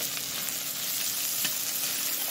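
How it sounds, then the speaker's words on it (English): Shallots and garlic sizzle in a pan in the kitchen of a seafood restaurant, a close, steady crackling fry with fine popping, heard alone. "you can go ahead and add your shallots and your garlic."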